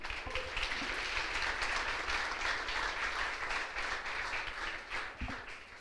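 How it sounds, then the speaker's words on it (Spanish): A congregation at a church service applauds loudly and steadily, a dense wash of clapping that holds for several seconds before tapering slightly near the end. "¿Le podemos dar un fuerte aplauso al Señor?"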